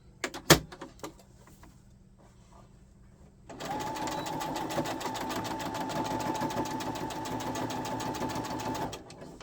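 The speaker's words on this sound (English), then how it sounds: "I'm just sewing that together and nestling all my seams so that I don't have major bulk." A sewing machine stitches boxed corners on a fabric project, starting with a few handling clicks and knocks, then running in a steady, close, rapid mechanical whir for about six seconds before stopping.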